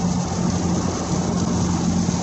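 Steady rain drums on a 2006 Ford Mustang during a storm, a continuous dense patter heard from inside the car with a low hum beneath, no voices.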